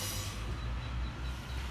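Class 142 diesel unit 142094 rolling through Lancaster station on the West Coast Main Line, a steady low rumble close by with no talk.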